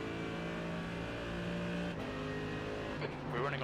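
A LMP prototype race car in the iRacing simulator approaches and passes with a rising, sustained engine note over the player's own car drone, a brief shift near the end as it goes by.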